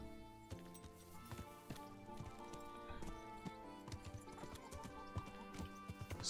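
Horse hooves clip-clop in the medieval game Kingdom Come: Deliverance, a steady ridden rhythm of hoof falls over a background music bed, no talking.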